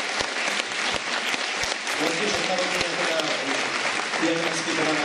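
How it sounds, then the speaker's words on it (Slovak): Large audience applauding to welcome a guest onto stage at a Slovak charity evening event, steady dense clapping throughout, loud and close. "Veľký potlesk."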